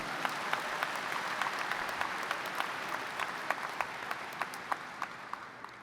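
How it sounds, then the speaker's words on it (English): Large audience applauding at a university new student convocation, a broad, fairly distant wash of clapping with scattered sharper individual claps standing out across the whole stretch. "You can clap for Uncle Ben."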